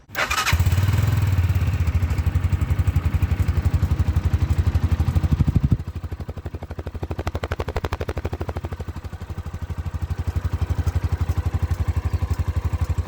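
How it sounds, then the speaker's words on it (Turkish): An Arora MT 125 motorcycle engine idles steadily at close range, a loud continuous rumble with a slight change in tone partway through. "Motorun sesini bir dinletelim size."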